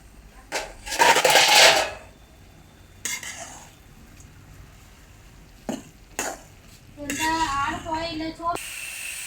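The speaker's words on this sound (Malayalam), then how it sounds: "മൂടി ഒന്ന് തുറന്നിട്ട് നമുക്ക് ഇടയ്ക്കൊന്ന് ഇളക്കി കൊടുക്കാവേ" Pumpkin leaf thoran stirred in an open pan, a spoon scraping and clinking against the metal in short separate bouts with a soft sizzle in the gaps.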